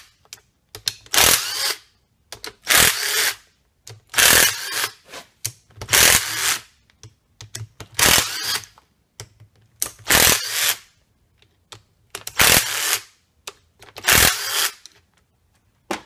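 A power tool whirs and ratchets in eight short, loud bursts with pauses between them while the bolts come out around the rewind starter of a 1990-2003 Polaris 400L two-stroke engine.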